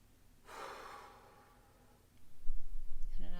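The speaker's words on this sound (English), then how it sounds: "Join me and take a deep breath." A single slow, deep breath, soft and close, swells and fades over about a second and a half. Low rumbling follows, and a voice begins faintly at the very end.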